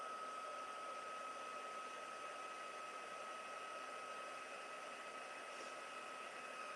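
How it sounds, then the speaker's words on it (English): A heat tool blows steadily over embossing powder on a handmade card, giving a continuous, fairly quiet whirring hiss of even loudness throughout. "I'm going to just come in with my heat tool"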